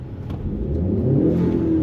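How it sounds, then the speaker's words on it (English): A classic car at a Dempsey Hill car meet in Singapore gives one brief rev, its engine rising to a loud, close rumble and holding there. "Can you rev once before you leave? Just once."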